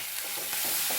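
Chopped onions sauté in a hot pan for Tamil-style potato masala, a steady bright sizzle with faint stirring scrapes throughout.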